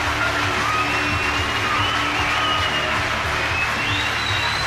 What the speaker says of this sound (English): Vociferous crowd, of course, of Harlequin supporters